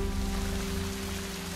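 Steady rain falling in the Shadow Tactics: Blades of the Shogun stealth game, a constant soft hiss of drops on surfaces over a low background hum, with no talking.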